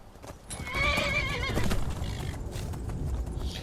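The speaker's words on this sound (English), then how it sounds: "to tame the wild horse, you have to get on it, ride her around until she bucks you off a few times" A wild horse in Skyrim lets out a loud, wavering neigh over rapid clip-clop hoofbeats, galloping close by with no speech.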